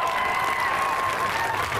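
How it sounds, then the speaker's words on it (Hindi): Dense crowd clapping at a political rally in Solapur fills the air steadily and loudly in a brief outburst with no voices heard over it. "ये अभी आप ताली जल्दी बजा गए।"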